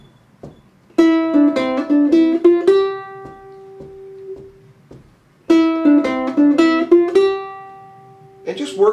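Ukulele picking out Miss McLeod's Reel in two rhythmic phrases of quick plucked notes, each ending on a ringing sustained note, played close and clear with no talk over it.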